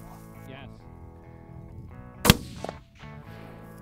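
A single sharp rifle shot fired at groundhogs during long-range varmint hunting, loud and abrupt in the middle, with people's voices heard before and after it.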